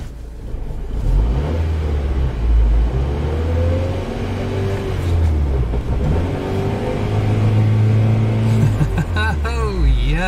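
A 1997 Honda Civic engine runs with a steady rumble and rises in pitch as it accelerates and revs over several seconds, close and loud, with brief voices near the end.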